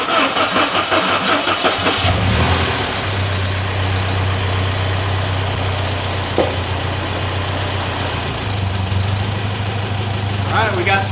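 A 1992 Saab Turbo engine cranks and catches after about two seconds, then settles into a steady, slightly rough idle, close and loud, with a voice speaking over it.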